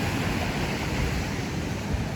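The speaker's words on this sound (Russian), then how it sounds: "вот такие здесь пляжи, такое шикарное море" Sea waves wash over a pebble beach in Crimea, a steady close rush of surf and water with no voices.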